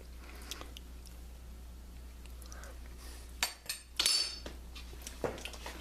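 Chewing and a spoon clinking against a dish while tasting fresh fruit mousse, soft close mouth sounds in a few short bursts over a low steady hum.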